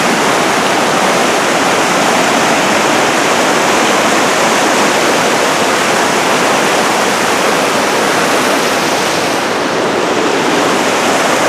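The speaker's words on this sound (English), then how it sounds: "There's Crystal Creek again." Crystal Creek in Mount Rainier National Park rushes past nearby, a loud, unbroken roar of flowing water that holds steady throughout.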